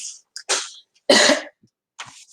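A person coughs a few times, close and loud, with one harsh, heavier cough in the middle and short pauses between.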